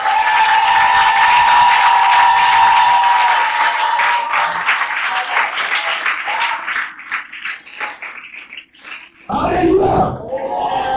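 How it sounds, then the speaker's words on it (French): A church congregation at a Sunday service breaks into loud, sustained applause and acclamation that fills the room, slowly thins into scattered clapping, then swells briefly again near the end. "nous allons acclamer fortement le père de cette maison."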